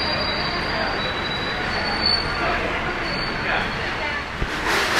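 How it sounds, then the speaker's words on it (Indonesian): A new-generation stainless steel executive train, the Jayabaya running from Jakarta to Malang, roars steadily with broadband rumble and a thin high wheel squeal, heard from inside the carriage. "Keretanya udah pakai kereta New Generation yang stainless steel terbaru."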